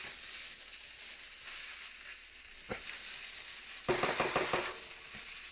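Cabbage stir-fry sizzles steadily in a hot wok, a continuous bright hiss, broken near the end by a quick run of clanks and scrapes as the vegetables are tossed, close with no talking.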